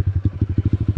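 A small pit bike engine, started with the choke on, catches and idles in a rapid, steady chugging putter of evenly spaced firing pulses, loud and close, with no talk over it.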